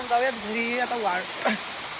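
A steady rush of a monsoon waterfall near Palghar fills the background while someone talks close over it.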